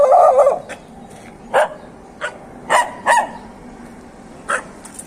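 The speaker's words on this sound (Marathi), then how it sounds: "नवीन माणूस आला की कुत्रे भुकतात" Dogs barking in Ambarnath: one loud bark opens, then several short, sharp barks come spaced out over a few seconds against a quiet background.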